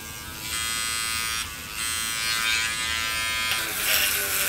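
GSI Mr. Hobby Mr. Polisher Pro vibrating its sanding pad on a 3D-printed part, a steady high-pitched electric buzz that shifts in pitch as it presses and lifts, close and continuous.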